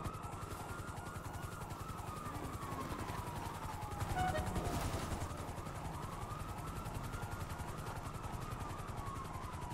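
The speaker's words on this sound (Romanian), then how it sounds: "nu fugi, că ne urmărește cu elicopterul" Police helicopter chasing in the video game GTA 5, a continuous rhythmic rotor chop with a whining tone, fairly faint, swelling briefly midway.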